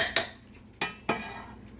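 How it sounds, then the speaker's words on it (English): A spoon stirs food in a pot and knocks against its sides three times, each knock a clear metallic clink that fades quickly. "I'm going to stir it up again and just let it all kind of meld in there together"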